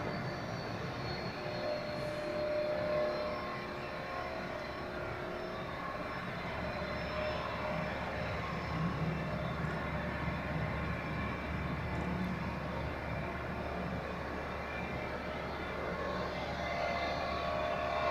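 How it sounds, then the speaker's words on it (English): A United Boeing 767 jet at Zurich Airport rumbles steadily on runway 28 before departing to Newark, a continuous, fairly distant roar of engines holding even in loudness throughout. "we are patiently waiting for the United 767 departing to Newark on runway 28"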